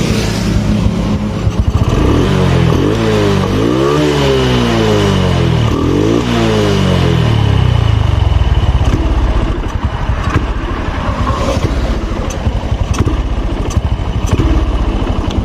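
Honda Blade motorcycle engine with a faulty ignition under high fuel supply, revved hard at full throttle, a loud continuous roar with rising and falling sweeps and rough clattering, close to the listener with no talking.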